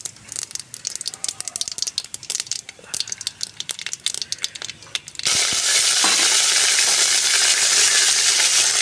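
Mustard seeds, urad dal and curry leaves hit hot oil while a Tamil tomato rasam is being tempered: scattered crackling pops come first, then a sudden loud, dense, steady sizzle takes over and holds to the end.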